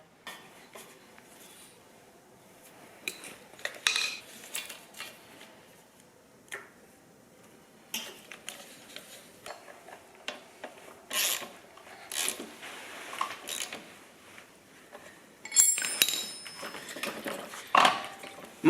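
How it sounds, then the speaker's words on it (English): Fender screws go in as a horn is mounted on a Yamaha GT80 motorcycle: quiet, scattered metallic clicks, light scraping and small rattles, close up and coming in irregular bursts, with a few sharper taps near the end. "I actually forgot to mount the horn, which mounts right here with those same fender screws"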